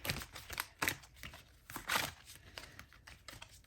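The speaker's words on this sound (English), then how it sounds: "Really, you'll have to excuse the way I shuffle." A deck of tarot cards is shuffled by hand, giving repeated crisp riffling and slapping bursts in an irregular rhythm, close and moderately loud with no talking.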